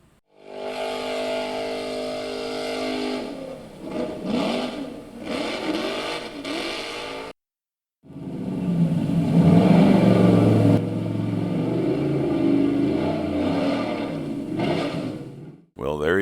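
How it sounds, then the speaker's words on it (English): Off-road Jeep and buggy engines roar and rev loudly at a Goat Hill hill climb race, sustained and strong with a brief gap of silence midway before the revving resumes and builds. "So we've got Wolfgang Mueller dragging his buggy up the hill in the Jeep, taking on Alva Speedco"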